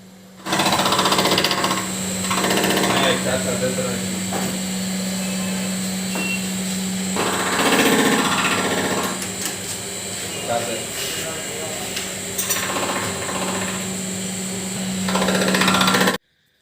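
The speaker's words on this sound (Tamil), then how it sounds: "அடுத்து க்ளீன் பண்ண ஹெட்டை இந்த மெஷினில் ஃபிட் பண்ணி ஃபேஸிங் பண்ணுவாங்க." A facing machine steadily grinds the surface of a cleaned diesel truck engine cylinder head, producing a loud continuous mechanical drone with a steady hum and some rising passes, alone throughout and cut off sharply at the end.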